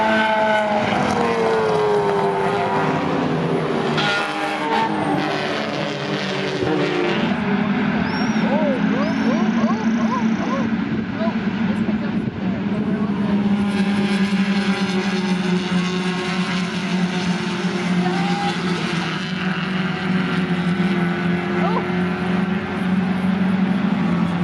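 Mazda NB Miata race cars lapping the Lime Rock track, engine whine rising and falling as they pass at mid distance beneath a steady wash of background noise, with a voice briefly heard.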